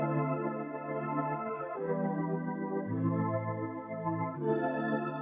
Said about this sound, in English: took the preset called Aki, it's this classic synth pad